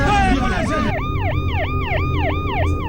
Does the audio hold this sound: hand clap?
no